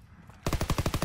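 Strafing gunfire in the military shooter game Squad: a rapid string of about nine heavy, evenly spaced shots bursts in after a quiet moment, loud and close.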